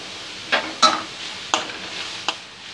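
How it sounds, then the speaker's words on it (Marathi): Carrots are sautéed in ghee, heard as a few close, sharp stirring scrapes and clinks spaced over a soft background sizzle. "गाजर परतवून घेणार आहोत."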